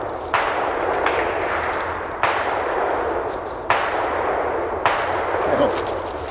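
Gunshots fired somewhere over a mountain, four heavy booms a second or more apart, each trailing into a long rolling echo, distant but strong in an open outdoor setting.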